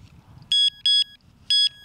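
A Giants Fishing TX5 wireless carp bite alarm emits three sharp, high electronic beeps, each a short double pulse, close and loud over a low background murmur outdoors.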